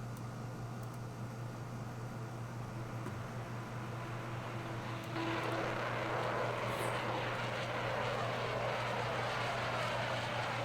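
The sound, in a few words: jet engines clipping the microphone in Kerbal Space Program video game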